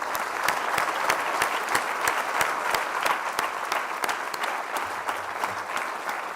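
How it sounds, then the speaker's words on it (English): An audience at a climate science keynote event claps to welcome the speaker. The applause is loud, continuous and dense, with a few sharp individual claps standing out near the front, and no talk over it. "please join me in giving a big applause and welcoming him"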